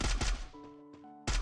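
Gunfire in the video game Free Fire: a few sharp, loud shots, a quick pair at the start and another burst at the end, with a ringing tonal tail between them and no talking.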